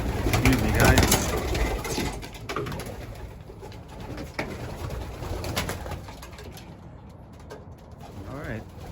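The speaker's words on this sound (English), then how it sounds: "It's time to let these birds out for a quick loft flight." Racing pigeons readied for an old-bird race coo and flutter at the loft, soft repeated coos mixed with wing rustles and ambient noise close by, with someone speaking over them.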